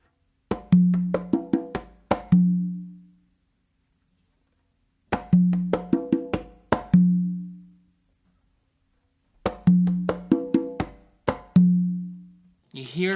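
Conga drums playing a tumbao, three spaced phrases of crisp rapid slaps and tones each ending in a resonant open low drum stroke that rings out, close and clear with silence between phrases.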